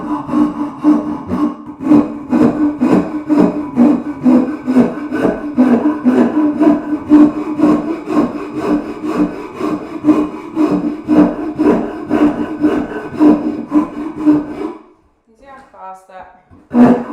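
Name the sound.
saw rasp roughing out a wood carving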